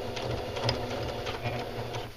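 A sewing machine stitches a casing on pajama pants at a moderate pace, a close, steady mechanical whir with faint rhythmic clicking that runs without pause and no talk.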